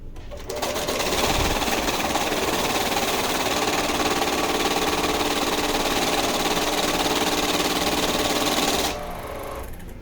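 A top-loading currency note counting machine runs in count mode, giving a loud, steady, rapid mechanical whir and riffle that starts abruptly, holds for about eight seconds, then stops, leaving faint background noise.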